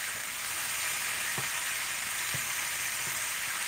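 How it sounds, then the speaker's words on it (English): A steady, quiet sizzle of ackee and cod fish frying in a pan, with a few soft scrapes as the ackee is gently folded in. "you just want to fold in your ackee now"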